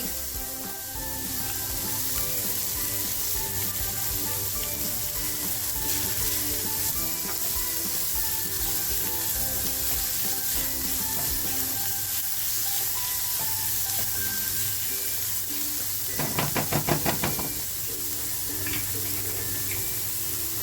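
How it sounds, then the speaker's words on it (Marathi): Turmeric and onion dropped into hot oil for a prawn egg roll, frying with a continuous close sizzle and hiss; a short rattling scrape of stirring stands out near the end, with no talking. "तेल छान तापल्यानंतर आहे ना आपल्याला अगोदर थोडीशी हळद टाकायची आहे त्याच्यानंतर बघा कांदा टाक"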